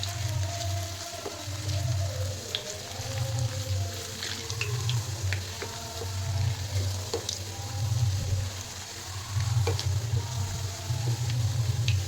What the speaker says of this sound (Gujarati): રીંગણાની બટેટાની સ્લાઇટ નાખશું એને પણ તળી લેશું